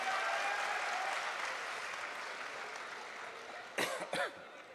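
Dense applause from an audience at a literature festival poetry tribute in Pakistan rolls on steadily and slowly fades, with a couple of coughs or throat clears near the end.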